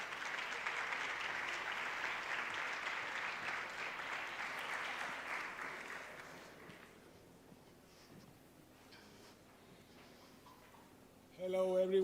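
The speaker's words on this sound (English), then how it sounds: "Big applause to Juan Luis, please." A conference audience claps through the first half at a startup event's main stage, steady and dense, then the applause fades away to a quiet room with a brief louder sound at the end.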